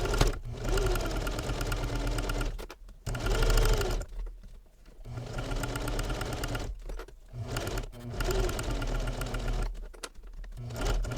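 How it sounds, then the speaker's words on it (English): A domestic sewing machine runs in several bursts while top stitching binding onto a fabric travel belt, a close, steady mechanical whir with short pauses between runs. "So now I want to top stitch this binding right on there."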